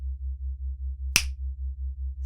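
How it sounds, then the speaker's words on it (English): A single sharp finger snap rings out alone and close, set against a steady, rhythmic low pulsing drone. "every single time you hear me snap my fingers"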